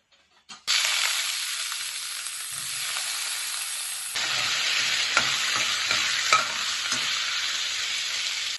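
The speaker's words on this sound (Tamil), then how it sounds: "கொஞ்சம் உப்பு போட்டு வதக்குங்க" Eggplant sautéing in sesame oil in a pan, a steady bright sizzle that jumps in suddenly and holds for several seconds, louder in the second half with scattered crackles and pops.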